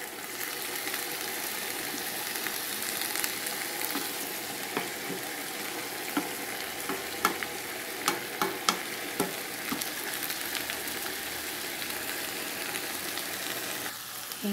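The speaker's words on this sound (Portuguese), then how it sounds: "Agora nós vamos deixar dando uma refogada aqui." Lentil farofa sautés in a pan with a steady soft sizzle, punctuated by scattered light clicks and scrapes of a spoon stirring, moderately close, no talking.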